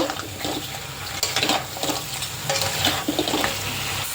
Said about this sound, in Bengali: এবার আমি এর সঙ্গে ভেজে রাখা আলু আর কাঁকড়াটা অ্যাড করে দেবো, দিয়ে হালকা একটু কষে নেব।